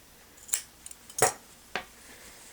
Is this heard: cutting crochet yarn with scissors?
yes